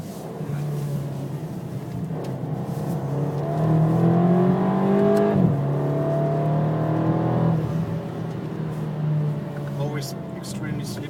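A race car engine during a hot lap of the Nordschleife, a steady in-car drone that rises in pitch under acceleration, drops sharply under hard braking and a downshift, then holds steady, with a driver talking over it.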